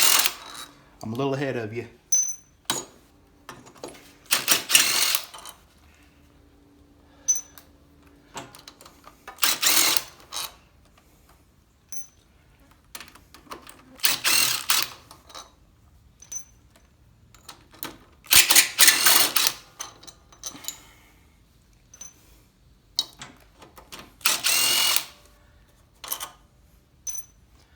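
A ratchet wrench removes cylinder head bolts during a head gasket replacement, in short bursts of rapid clicking separated by quiet gaps, with a few spoken words near the start.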